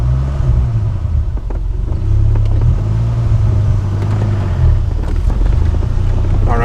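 A 1994 Dodge Viper running close by, its engine a loud continuous low rumble with a few rises in revs and faint clunks from the heavy clutch and Tremec gearbox.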